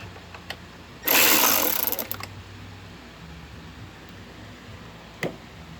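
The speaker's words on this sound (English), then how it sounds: "we're going to loosen up that bolt" A bolt being loosened on a Suzuki GSXR 600 gives a short burst of close, loud mechanical ratcheting and clicking, then a softer rattle and a single faint click later on.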